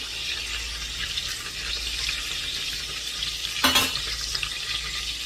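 Whole spices (bay leaves, cinnamon, cloves and fennel) sizzle in hot ghee for mushroom biryani, giving a steady close frying hiss with one brief louder crackle partway through, and no talk.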